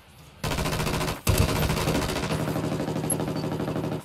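Heavy automatic gunfire in the tactical shooter Ghost Recon Wildlands erupts suddenly and rattles on in dense, rapid, overlapping bursts, loud and close, after a brief quiet start and a momentary gap.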